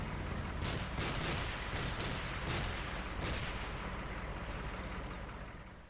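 Gunfire in a multiplayer survival shooter during an assault on a fire station base, a dense run of shots and booming reports that slowly fade, loud and without talk.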